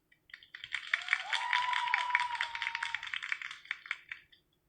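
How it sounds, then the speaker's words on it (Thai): An audience at a live birthday-party concert applauds to welcome a performer, a dense burst of clapping that swells and fades over a few seconds, with a brief whistle-like tone rising through it. "ขอเสียงปรบมือดังๆ"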